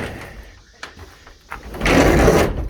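A heavy chicken coop door is worked open with a few scraping knocks, then a louder sustained grinding slide near the end, close by.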